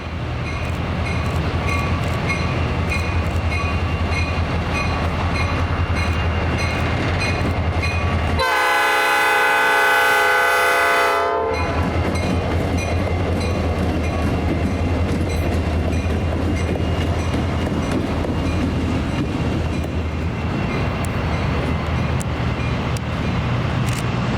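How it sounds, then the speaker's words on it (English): A train rumbles past steadily with rail clatter, and a diesel locomotive's loud sustained horn blast for a road crossing cuts in for a few seconds midway before the rolling noise continues. "they blow the horn for the Division Street crossing past our cameras"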